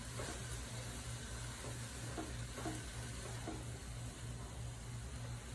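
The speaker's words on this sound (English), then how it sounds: "Giving the egg roll in the bowl just a quick stir here." Egg roll in a bowl cooking in a pan while being stirred, a steady low sizzle with soft scraping stirs running continuously at moderate distance, no voices.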